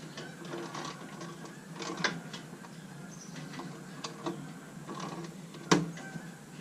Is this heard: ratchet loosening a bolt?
yes